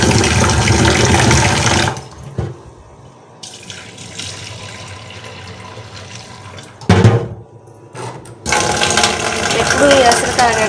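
Rice being rinsed with fresh water in a home kitchen, giving steady splashing and running-water sounds with brief pauses and a louder burst of swishing near the end, close and fairly loud.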